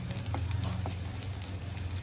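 Crushed shallots, chopped green chillies, crushed ginger and curry leaves sautéing in a pan for a Kerala fish curry, a steady close sizzle with a low rumble underneath and a couple of faint stirring scrapes, no voices.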